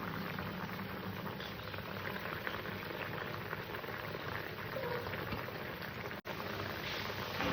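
A pot of vegetable curry with ridge gourd and potato bubbles at a steady boil, a continuous close hiss and patter of bursting bubbles with one brief tap near the end, no talking.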